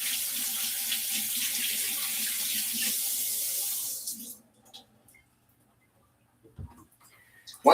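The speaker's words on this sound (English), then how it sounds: "I gotta wash my hands very quickly." Water runs steadily from a kitchen tap for about four seconds while hands are quickly washed, close and fairly loud, then cuts off, followed by a few faint clicks and a knock.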